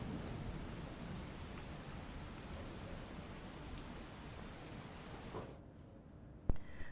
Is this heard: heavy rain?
yes